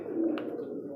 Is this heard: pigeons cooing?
yes